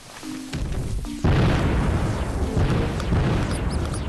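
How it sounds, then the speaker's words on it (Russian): Enemies blowing up on impact in the video game Dreams Defender, heard as a dense run of loud, booming explosion blasts that layer over one another and carry on steadily across the whole stretch. "они, когда врезаются, взрываются"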